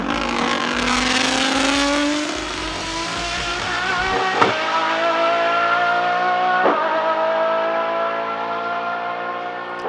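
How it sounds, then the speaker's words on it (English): Engine of a car in the Forza Horizon 5 racing game revving hard through a sustained high-pitched wail with falling pitch, with two sharp downshift blips; loud and continuous with no talk. "Oh my god, I love the sound of this car."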